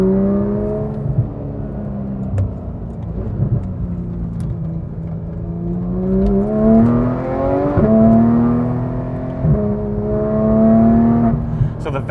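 Porsche 991 GT3 engine fitted with Dundon Motorsport exhaust and headers and BMC filters, its loud harmonic drone climbing and dipping with revs through a steady twelve-second drive, with no pauses.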